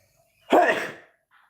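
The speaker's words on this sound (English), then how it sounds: "I feel like sneezing." A single sharp human sneeze bursts out near and fairly loud, then trails off quickly into quiet.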